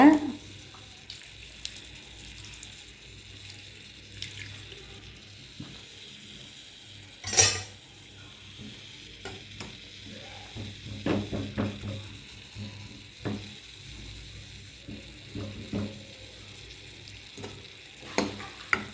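Drumstick (moringa) leaves simmer quietly in a little water in a pan, with soft bubbling, occasional stirring scrapes and one sharp clink.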